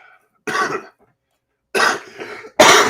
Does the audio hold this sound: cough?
yes